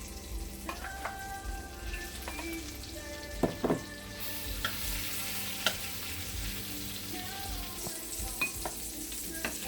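Shrimp sizzle and fry in melted butter in a pan, a steady close crackle with occasional stirring clicks and scrapes across the whole stretch.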